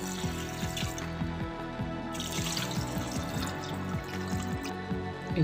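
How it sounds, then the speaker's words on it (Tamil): Water pours steadily into a metal pressure cooker, with a gurgling, resonant hollow tone that keeps wavering as it fills. No voices. "வேகிறதுக்கு தேவையான அளவுக்கு தண்ணி சேர்த்துக்கலாம்."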